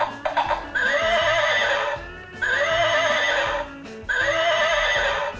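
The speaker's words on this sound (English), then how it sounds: "it does trotting noise and then it neighs 3 times" An electronic toy power pony plays a short clicking trot, then three loud, close neighs in steady succession, each with a brief pause between them.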